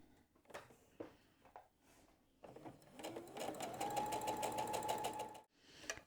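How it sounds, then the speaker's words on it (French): A sewing machine stitches crazy-patchwork pieces together at a quarter-inch seam after a few soft handling taps, starting with a rising whir and settling into a steady, close, rapid mechanical hum for a couple of seconds before stopping. "Et puis je vais coudre à un quart d'inch."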